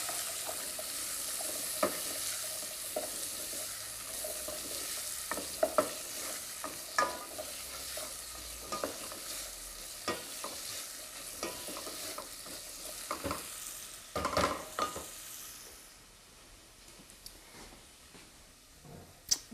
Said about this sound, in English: About half a red capsicum I've diced. Give that a little stir.